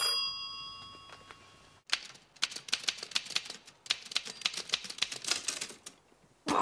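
A typewriter clacks in rapid bursts of crisp, close keystrokes, with brief pauses between runs and a small bell-like ring near the start. An office sits quiet around it, with no talk.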